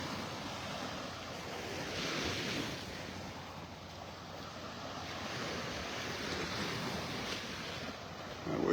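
Ocean surf rolls in at Vanderbilt Beach in North Naples, Florida, a continuous wash of breaking waves that swells and eases, with wind buffeting the microphone.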